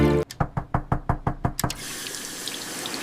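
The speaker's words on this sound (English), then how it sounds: "The water is very loud." Water runs steadily from a bathroom tap, a continuous hiss filling the last second and a half after a quick series of sharp knocks on the door.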